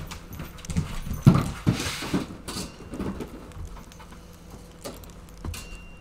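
A dog in a multiplayer video game sounds off with a few sharp, fairly close bursts among clattering in-game noises and background hum, with no talk over it.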